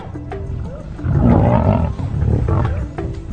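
A lion roars in a deep, rumbling series of calls that swell and fade over a few seconds, loud and close, with a second surge of roaring near the end.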